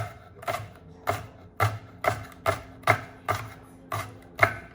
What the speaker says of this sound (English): So you're just gonna thinly cut it like this.